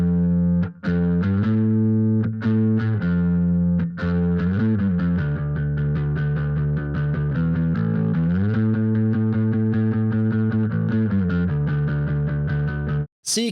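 Rock bass guitar run through a compressor into a Darkglass Ultra distortion, playing a steady stream of picked notes with thick, saturated, even tone throughout, loud and close, with no talking.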